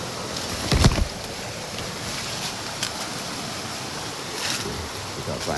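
Rushing water runs near a hillside coffee harvest in the Indonesian mountains, a steady broadband roar that fills the whole stretch, with a brief knock or thump near the start.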